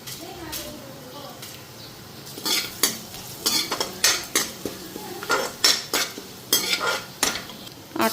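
Cumin and spices frying in a pan while a metal spoon stirs them, with repeated scraping clinks against the pan in irregular bursts over a soft sizzle, and a voice speaking in between.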